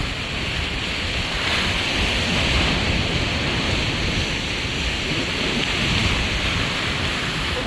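Heavy sea surf pounds a shoreline near a workplace, deep water churning in a steady, loud roar of crashing waves with wind noise across the microphone and no pauses.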